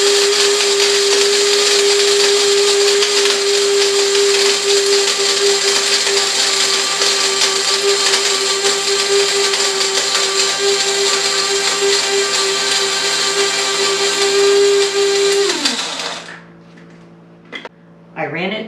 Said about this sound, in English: I ran it through the coffee grinder twice to get a really fine ground spices